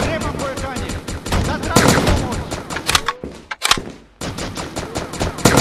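Loud, close automatic gunfire from the shooter IGI 3 rattles in rapid sustained bursts, with a brief lull and a few isolated shots before heavy firing resumes.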